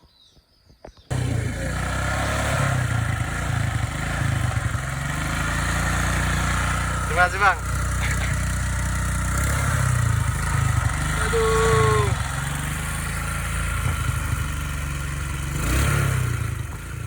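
A motorcycle engine starts abruptly after trouble starting and runs in a steady, rough rumble with occasional revs; someone briefly speaks over the noise. On Rote Island, Indonesia.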